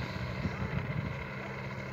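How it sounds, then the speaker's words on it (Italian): A paramotor engine on a wheeled trike idles at low throttle on a field, a steady low rumbling drone that stays even throughout with no voices over it. "Ora il motore al minimo."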